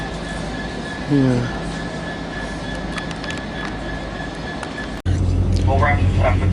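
A passenger train rolls along, its loud steady rumble filling the carriage with faint rising wheel whines, then the noise jumps louder as a new section begins; a voice briefly speaks over it.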